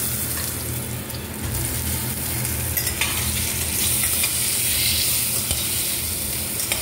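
Potato pieces for fried rice sizzle in hot oil and are stirred, a loud continuous frying hiss with scraping stir strokes throughout and no voices.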